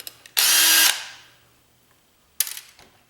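A power driver whirs in a loud burst of about half a second while removing screws from a circuit card, then falls quiet before a second, shorter spin-up near the end.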